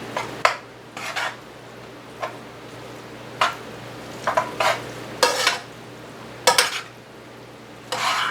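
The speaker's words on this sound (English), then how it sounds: "Start stirring it in." A spoon scrapes and clinks in a pan as cabbage, gluten-free noodles and smoked sausage are stirred and folded, with irregular bursts of scraping over a low steady hum and faint sizzle.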